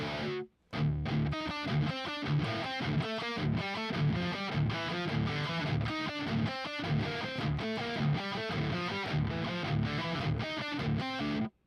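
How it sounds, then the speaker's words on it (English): A loud, heavily distorted instrumental riff plays in a driving repeated pattern after a brief opening hit and short pause, continuing steadily to the end. "Let me practice that riff."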